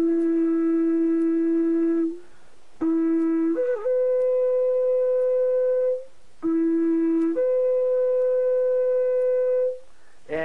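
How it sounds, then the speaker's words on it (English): A shofar blown by a former trumpet player, with three long sustained blasts, each starting low and then stepping up to a higher held note, separated by short pauses, loud and close with no talk. "let me give you a quick demonstration of what a shofar actually does sound like"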